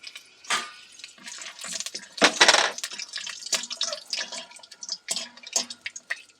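Peanuts frying in hot oil in a pan over low heat give irregular, scattered crackles, sizzles and small pops, some sharper bursts standing out against near silence, with no talking.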